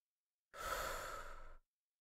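A single slow exhale during a fitness breathing exercise, close and soft, lasting about a second and framed by silence.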